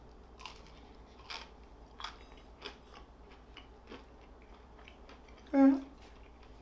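Someone bites and chews crunchy protein salami pizza crust close up, with a series of small crisp crunches spread out over quiet background noise and one louder sound near the end.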